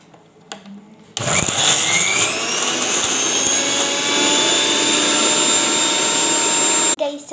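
An electric mixer blends shawarma filling with cheese and salt in a loud, steady high-pitched whir lasting several seconds, starting abruptly after a brief clatter and cutting off at the end.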